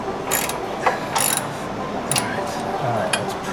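A ratchet clicks in short bursts while tightening bolts on motorcycle engine guards, quick metallic pawl clicks repeating several times at close range over a faint background.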